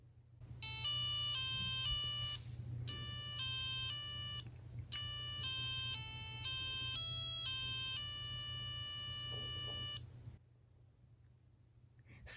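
A small piezo buzzer on a Seeed Studio Wio Terminal microcontroller running CircuitPython plays a loud, shrill electronic melody of stepped tones close by, in three bursts with brief gaps, for about ten seconds before stopping.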